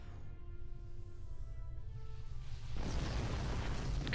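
A starship explosion in Star Trek Online, a deep rumbling blast that swells up near the end over a steady low hum of game ambience and faint tonal beeps, with no talk.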